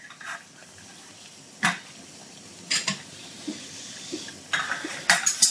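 Whisk stirring a butter and flour roux in a pan for braised venison poutine, soft intermittent metallic scrapes and clinks over a faint low sizzle, quiet and close.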